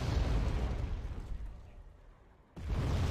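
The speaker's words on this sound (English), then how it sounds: "Artillery is just relentless." Artillery explosions in the real-time strategy game Wargame: Red Dragon: a heavy, rumbling roar fades over a couple of seconds, then a fresh loud blast hits abruptly. No voices.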